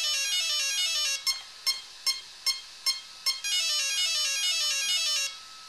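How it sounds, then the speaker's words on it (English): An RC car electronic speed controller beeps during throttle calibration at full forward: tones rising in a melodic sequence, then five short spaced beeps, then another long tonal run, loud and close with nothing else heard. "then go all the way forward until it beeps."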